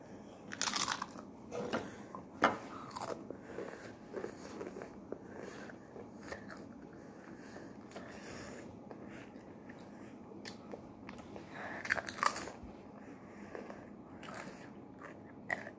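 Someone biting and chewing a piece of food, with crisp crunches near the mic, loudest at the start and again near the end, and quieter chewing between.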